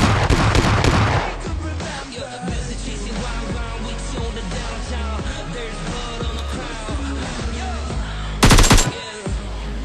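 AKM rifle gunfire in a video game, rapid bursts of automatic shots rattling steadily and loudly through the stretch, ending with a sharper, heavier burst near the close.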